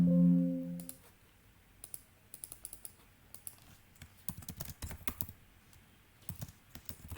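Steady typing on a computer keyboard, with quick irregular bursts of clicking keystrokes close by after a brief low tone at the start, and no talking.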